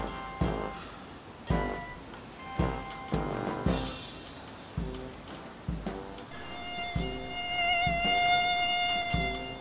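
A thin, high mosquito whine hovers and wavers near the ear, growing more prominent toward the end, while regular low thumps pulse underneath throughout.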